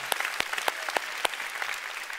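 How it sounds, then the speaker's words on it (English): Church congregation giving a round of applause during a sermon: scattered, crisp hand claps, several loud nearby slaps over a softer bed of clapping, fading slightly toward the end. "Oh, give the Lord a big clap."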